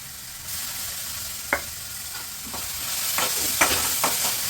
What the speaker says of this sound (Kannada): ನೆಕ್ಸ್ಟ್ ಇವಾಗ ಸ್ವಲ್ಪ ಶುಂಠಿ ಬೆಳ್ಳುಳ್ಳಿ ಪೇಸ್ಟ್ ಹಾಕ್ತೀನಿ